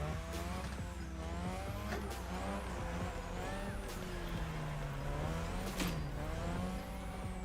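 A car drifts around the drift track in The Crew Motorfest, driven with a Fanatec wheel and left-foot braking instead of an e-brake. A loud, steady engine roar rises and falls with the revs while high tire squeals whine on and off throughout, with no talking.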